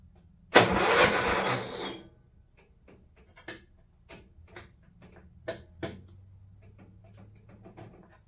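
An old Craftsman riding mower's engine cranks loudly and harshly for about a second and a half. It then drops away to faint, scattered clicks and ticks in a quiet setting.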